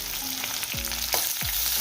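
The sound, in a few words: onions frying for tempering fish curry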